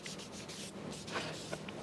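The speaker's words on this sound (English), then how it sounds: "doing a real light sanding, hand sanding, with 220 on this" Soft, steady scratchy rubbing of light hand sanding on wood with 220-grit sandpaper, close by, with quick strokes continuing throughout.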